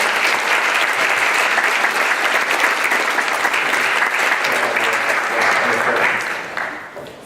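Loud, dense applause from a conference audience at a digital travel conference in Norway, sustained for several seconds before tapering off at the end, with some voices underneath.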